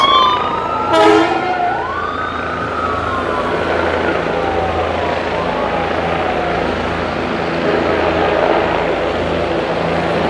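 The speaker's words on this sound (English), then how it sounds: "an ambulance" An ambulance siren wails in sweeping rising and falling tones, fading into the distance over a steady roar of city traffic in downtown New York City, near Governors Island.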